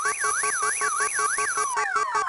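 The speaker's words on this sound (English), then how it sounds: "Does everyone ignore your car alarm?" An electronic car alarm from the video game You Don't Know Jack wails in rapid rising and falling sweeps with a pulsing beat, loud and close, then shifts pattern near the end.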